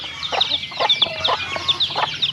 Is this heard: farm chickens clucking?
yes